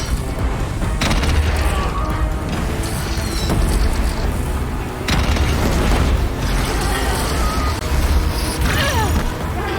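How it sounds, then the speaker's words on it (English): Cannon fire in the Horizon Zero Dawn game finale sounds as repeated heavy booms within a dense, loud battle din, mixed with rumbling blasts and clatter across the whole stretch. "They have every type of machine, but this cannon is like really nice."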